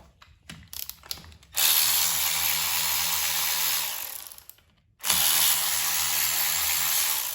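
T30 Torx bolts being removed with a ratchet during rear main seal and water pump work on an MK6 GTI: a few quick ratcheting clicks, then two long, loud stretches of steady mechanical whirring separated by a short pause.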